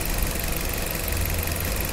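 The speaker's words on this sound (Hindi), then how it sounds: "जैसे ही आपका इंजन गर्म होता है तो फैन आपका चालू हो जाता है" A Maruti Suzuki Ignis engine idles with its radiator cooling fan running, a steady close hum and whir under a constant airy rush, no voices.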